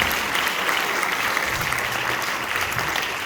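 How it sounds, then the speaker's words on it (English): A high school concert band audience claps for a trumpet soloist at an end-of-year concert, a dense, steady wash of applause lasting the whole stretch with no talking. "So clap for him."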